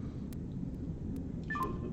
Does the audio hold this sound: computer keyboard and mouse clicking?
no